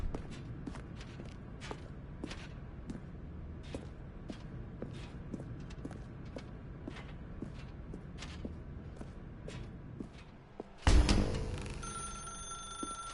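A telephone rings loudly in The Stanley Parable, a sharp electronic bell bursting in near the end after a long stretch of steady footsteps.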